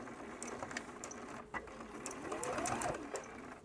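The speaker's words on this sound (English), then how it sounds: "I'm just going to go over my original seams with a few stitches and then a little back stitch." Close, quiet sewing machine stitching a patch onto a stuff sack, a rapid mechanical chatter with short stops and restarts as it back-stitches.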